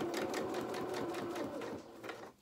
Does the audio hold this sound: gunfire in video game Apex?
no